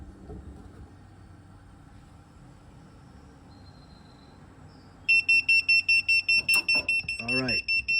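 A Tadeto 12V carbon monoxide and propane detector sounds its alarm after exposure to natural gas from a stove, giving loud rapid repeated high beeps close by after a quiet stretch, with a person talking over the end.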